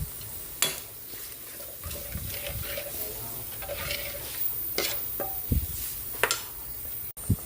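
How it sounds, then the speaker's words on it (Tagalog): A pot of sinigang sa miso with pork bubbling and simmering with a steady crackle, broken by a few sharp clinks of a utensil against the pot. "Kumukulo na yung ating sinigang sa miso."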